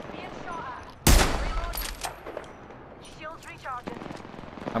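Gunfire in the battle royale game Apex Legends: one loud sniper-like blast rings out, followed by several sharper shots and bursts, with game voice lines and sound effects around it.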